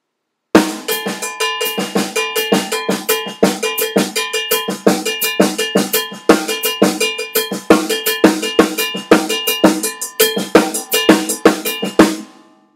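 Drum ostinato groove at about 84 BPM, played with the right hand, left hand and left foot: a steady, even run of sharp metallic strikes with bright ringing overtones, loud and close, with no voices.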